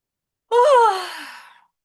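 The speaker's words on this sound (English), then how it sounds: "Try not to yawn, but I have no choice." A single long yawn, rising suddenly out of silence and trailing off with a sighing exhale over about a second, close and clear with no other sound.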